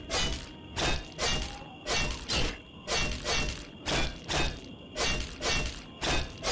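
Weapon blows striking an enemy in The Elder Scrolls IV: Oblivion, a rapid series of about a dozen sharp, crunching impacts at an even, fast rhythm, close and loud.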